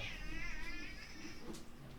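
A house cat meows over a low background hum, a drawn-out, wavering cry that fills most of the moment, fairly close and moderately loud with no talk.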